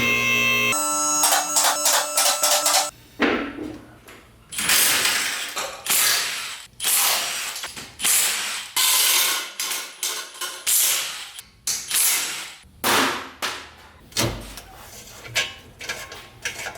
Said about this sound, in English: I'm gonna go ahead and pull the turbo manifold out just to get it out of our way while we do our pan.